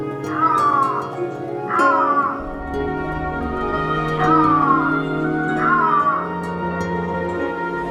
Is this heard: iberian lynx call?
yes